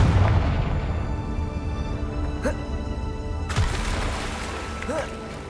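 Blasting spell explosions cast in Hogwarts Legacy, two sharp bursts a few seconds apart over a continuous rumbling game backdrop of music and ambience.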